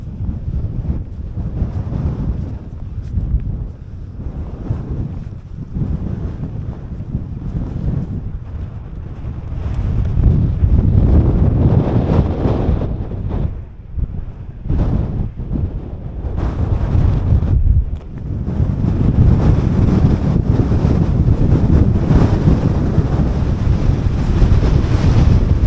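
Strong gusting wind buffets the microphone on a Lake District fell near Robinson summit, a loud, continuous roar that rises and falls in waves with no voices.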